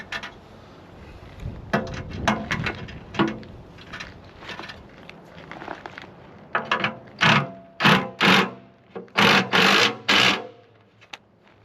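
Thread chaser being worked along bolt threads during a propane truck repair, a series of scraping, rasping strokes that start uneven and soft and then become louder, sharper bursts toward the end, close up.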